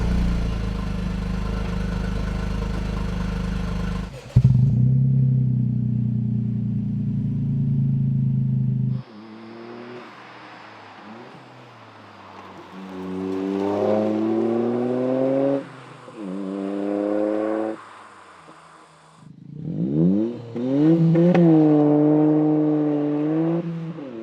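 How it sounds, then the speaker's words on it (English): A Toyota GR Yaris fitted with a stainless cat-back exhaust: a loud idle drone, then repeated rising engine revs and accelerating pulls separated by brief lulls, heard close with no talking. "It was easy to fit, but most importantly, sounds so much better than the vacuum cleaner exhaust from factory."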